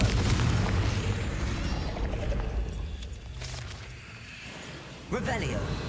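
A Confringo fire spell explodes in a wizarding video game, a loud low boom that rumbles and fades over several seconds, followed by a fresh burst of crackling magical effects.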